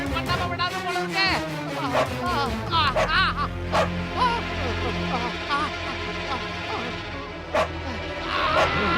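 Dog barking and yipping in quick bursts amid a busy, noisy scene with people talking and shouting over it, in a Tamil film setting with goats nearby.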